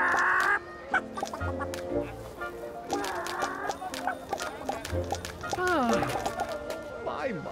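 A hen clucks in short bursts amid a farmyard scene, with hoof clip-clops and voices talking over it in a storybook cartoon.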